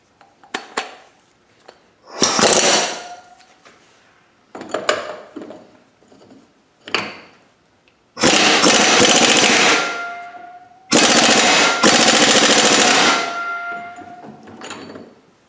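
Loud, ringing metal-on-metal hammer strikes on a socket stuck fast on a Loctite-secured NV4500 transmission in a driveway, arriving in scattered single clangs and then long rapid bursts of close blows.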